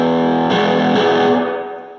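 An electric guitar played through an amp with the gain all the way up rings out in a thick, distorted tone, a sustained chord followed by two more struck notes that fade out at the end.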